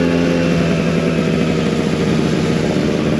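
A 20-year-old Vespa PX125 scooter engine runs steadily while riding, a loud, continuous close putter with an even pulsing beat and no talk.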